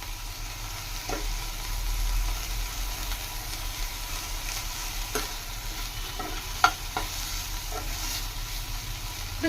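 Tender tamarind leaves are stir-fried in a pan, giving a steady sizzle under repeated scraping stirs, with a few sharp clicks of the spatula striking the pan along the way.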